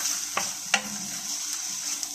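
Quail frying in a pan with coriander powder, cumin and black pepper, giving a steady close sizzle with a couple of brief stirring scrapes and no talk.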